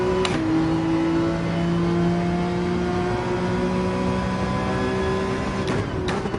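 Racing car engines in Gran Turismo 7 during an online race, a steady, loud droning engine note with several cars running close together and brief shifts in pitch, no voices.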